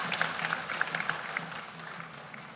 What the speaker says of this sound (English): Can we have a big round of applause for them?